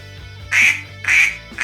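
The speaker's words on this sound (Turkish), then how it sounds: "Sarı bir ördek." Three bright, nasal duck quacks repeat in a steady rhythm over a soft low hum, close and fairly loud, with no talking.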